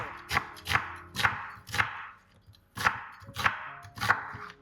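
A knife slices an onion on a cutting board in seven sharp, evenly spaced strokes with a brief pause midway, close and clear.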